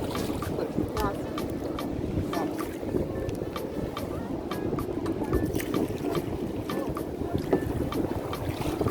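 A kayak paddled on the water off Barbados: rhythmic paddle strokes and constant splashing beneath heavy wind buffeting on the microphone, with faint voices mixed in.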